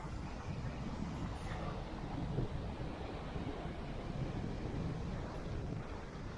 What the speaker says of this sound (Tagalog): Mukhang rough yung surf.